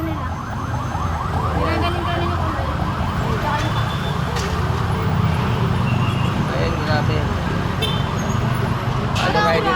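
An ambulance siren wails steadily amid street traffic noise after an explosion, with a crowd of voices talking around it throughout.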